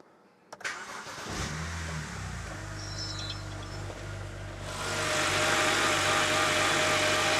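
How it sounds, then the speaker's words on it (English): A BMW engine cranks and catches, then settles into a steady idle that grows slightly louder and rougher as it keeps running. "now we'll just fire up the engine just to make sure we don't have any leaks"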